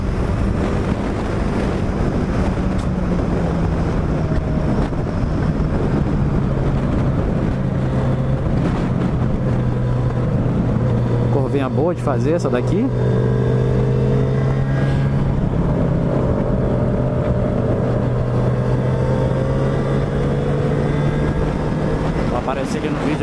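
A Yamaha YZF R3 motorcycle accelerates on a Sunday ride near Cantagalo, its engine note climbing and shifting through gears beneath heavy wind rush, while a rider talks over it.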